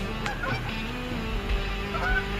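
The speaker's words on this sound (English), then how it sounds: "Oh, let's check out these geese." Geese honk repeatedly out in the open along a nature trail in the Delta, several calls rising over a steady outdoor background with no talking.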